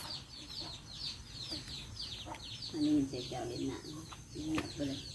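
Chickens cluck and call repeatedly near a rural home in Thailand during a mushroom-foraging outing, with soft scattered clucks building to louder bursts, over a busy background of birds and insects.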